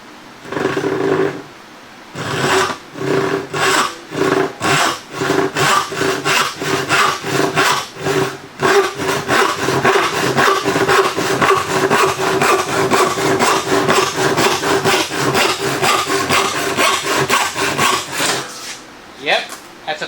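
Hand saw test cut through a 1x4 pine board, close and loud, with fast rhythmic rasping push and pull strokes that run steadily for most of the clip before the board is through.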